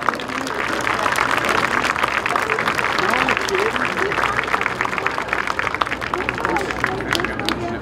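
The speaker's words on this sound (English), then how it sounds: "Ladies and gentlemen, how about a big round of applause for everyone involved?" Sustained applause and clapping from a crowd at a 2023 EJFL awards ceremony, dense and steady throughout with a hum of crowd chatter underneath.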